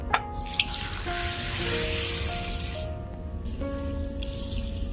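Chana dal and fenugreek seeds being washed in water, with running tap water and sink sounds, a couple of sharp clinks near the start, then steady close splashing and trickling throughout.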